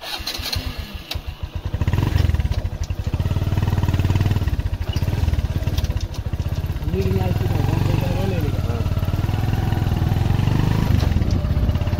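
A motorcycle engine hums steadily while the bike is ridden, rising and settling in pitch, and someone talks over it at intervals.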